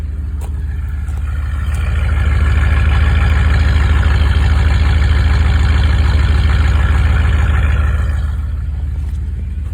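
A truck engine running with a deep, steady low exhaust rumble that swells louder for several seconds in the middle and then eases back, heard up close with no talking.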